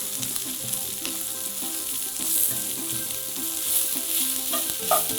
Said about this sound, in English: the tofu is getting nice and seared here